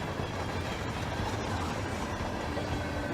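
Steady rumbling train ambience inside a moving train in the video game Hitman 3, a continuous low roar with faint rhythmic rail clatter and a thin high whine near the end, no talking.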